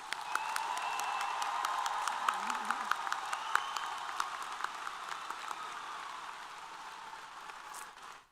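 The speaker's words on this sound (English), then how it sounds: "let's give these new alumni a round of applause" Commencement crowd at a university ceremony claps for new alumni, a sustained, even patter of many hands with scattered sharper claps standing out, steady to the end.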